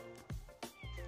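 A domestic cat gives a few short meows in quick succession, soft and somewhat distant.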